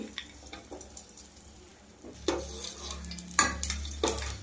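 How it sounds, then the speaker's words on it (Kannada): Raisins and cashews frying in ghee in a pan for festive pongal, a soft steady sizzle with a few metal stirring clinks and scrapes growing louder toward the end, close by and without talk. "ದ್ರಾಕ್ಷಿ ಗೋಡಂಬಿ ಏನಿದೆ ಅದನ್ನು ತುಪ್ಪಕ್ಕೆ ಹಾಕೊಳ್ತಾ ಇದ್ದೀನಿ"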